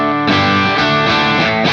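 An electric guitar through a Nux Cerberus overdrive and distortion pedal, driving an already edge-of-breakup Sheriff amp, plays a loud, sustained, mid-heavy chord with a strummed restrike partway through.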